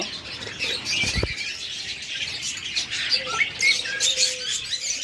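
A pair of budgerigars, a master breeding pair with eggs, calling in chirpy squawks and chatter, with more birds twittering in the background throughout and a brief thump near the start.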